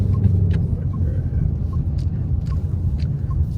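A 2019 Mustang GT engine under way while driving: a steady deep V8 rumble with faint ticking on top, close and continuous, with no talk over it.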